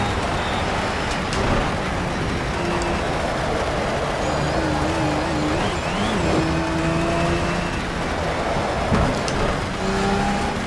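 A Pagani Zonda Cinque Roadster's engine in the racing game Project CARS, driven in heavy rain: a continuous loud engine drone with shifting revs, tire and rain noise underneath.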